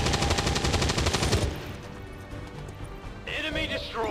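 XCOM 2: War of the Chosen firefight: a rapid burst of loud gunshots gives way to a lower rumbling aftermath, then a sharp metallic crash near the end.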